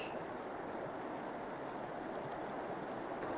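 Fast-flowing river water rushes steadily in a broad, even wash during wet fly fishing, continuous and moderately near with no voices.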